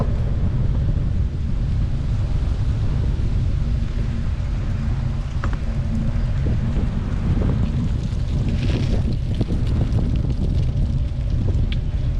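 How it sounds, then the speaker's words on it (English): Strong wind roars across the microphone on a paved riverside bike trail, a steady low buffeting rush that fills the whole stretch, with faint scattered rattles near the end and no talking. "the wind's picked up here a little bit, and it's not, yeah, it's in my face"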